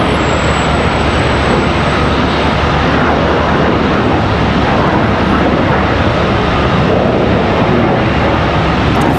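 An American Airlines jet takes off from Charlotte Douglas International Airport with a loud, continuous engine roar that stays steady and close for the whole stretch, with no speech.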